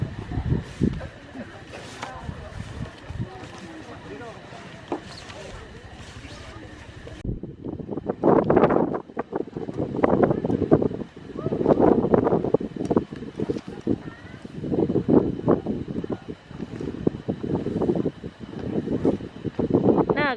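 Strong, gusting wind from a windstorm buffets the microphone beside a rooftop tent at Klangon camping ground on Merapi, rumbling loud and uneven while people talk throughout.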